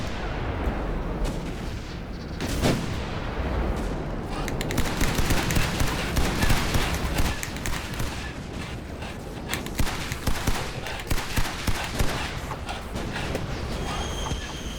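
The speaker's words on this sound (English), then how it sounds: "So this automatically shoots in front of me" Rapid automatic gunfire from a self-firing weapon in the VR game Spuds Unearthed, sustained and dense with sharp repeated bursts throughout, loud and close over a busy battle backdrop.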